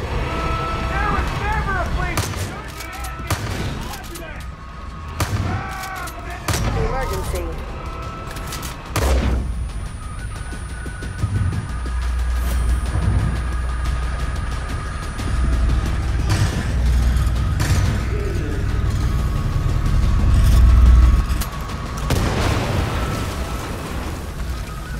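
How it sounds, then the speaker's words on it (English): In Far Cry 5, a boss fight with John Seed brings heavy gunfire and fuel tank explosions, with rapid shots early giving way to deep booming blasts and rumbling that build loudest near the end, under intermittent game voices and alarms. "Shoot the fuel tanks."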